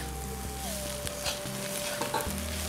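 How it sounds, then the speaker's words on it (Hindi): Chickpea greens (chana saag) being stirred together with fried broad beans in a frying pan over a medium flame, giving a steady close sizzle and frying hiss broken by repeated scraping strokes of the spoon, with no talking. "फ्राई किया हुआ सीम डालिए, अच्छे से सब्जी को मिक्स कर दीजिए इस तरह से।"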